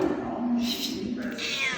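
A house cat meows loudly and close up, a drawn-out, wavering call over indoor background sound.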